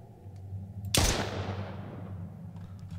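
A single sharp gunshot in the survival video game Mist Survival, a loud sudden crack with a decaying tail over a steady low background hum.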